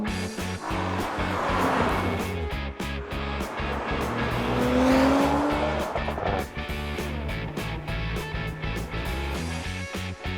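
An Audi RS5 with a 2.9-liter twin-turbo V6 pulls away, its engine rising and revving through gear changes with a brief tire squeal, loud and close throughout.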